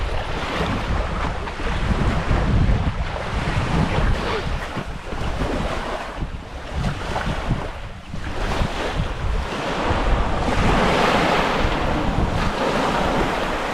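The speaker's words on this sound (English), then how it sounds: "I'm just waiting for the wind to die down. It's not too bad at the moment, but there's a bit of a swell on, so it's a bit choppy" Wind gusts and choppy waves slapping on a large French lake, a steady broadband rush with loud buffeting wind noise on the microphone throughout, no talking.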